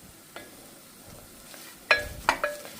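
A spoon scrapes and clinks against a pan as tarhana is roasted and stirred in oil, with a quiet sizzle under a few sharper metallic knocks near the end.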